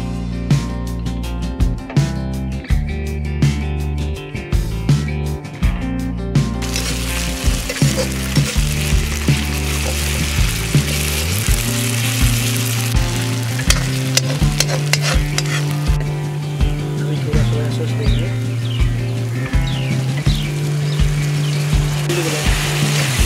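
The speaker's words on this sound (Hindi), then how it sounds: "अदरक लहसुन का पेस्ट डालेंगे।" Ginger garlic paste sizzles loudly in a hot pan while being stirred for an egg curry, with repeated scraping clicks of the utensil over continuous frying hiss and no speech.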